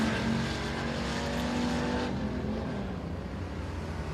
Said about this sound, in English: Ronald Pilkington in the double deuce car.